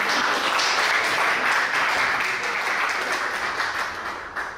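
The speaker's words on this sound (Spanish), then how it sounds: "Fuertes los aplausos." Audience applause at a book presentation about music, loud and close, with a dense, even patter of many hands that holds steady before tapering slightly at the end.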